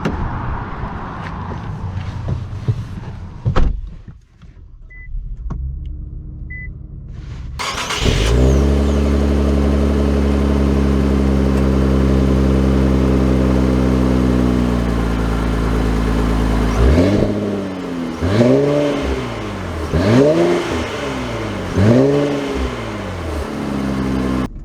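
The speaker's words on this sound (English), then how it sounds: "Oh, setting off in the Q60" A 2022 Infiniti Q60 Red Sport 400 starts up and pulls away, its engine settling into a steady loud drone before revving repeatedly in rising and falling surges, heard close with no talking.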